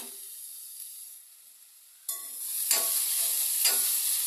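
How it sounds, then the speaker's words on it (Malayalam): ABC thoran cooking in a covered pan gives a faint, quiet hiss, then the lid comes off and stirring starts, bringing a louder sizzle with scraping strokes that recur every second or so, close by. "അടച്ച് വേകാൻ വെച്ച ABCD തോരൻ ഉണ്ടാക്കി തുറന്ന് ഇളക്കി കൊടുക്കാം."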